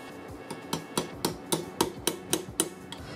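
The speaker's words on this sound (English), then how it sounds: "you can use the other side of the punch to help hammer this in" A metal hammer strikes a punch about ten times, driving a dowel into a KitchenAid tilt-head mixer gear, in a steady, even rhythm, each blow a sharp, close, ringing tap.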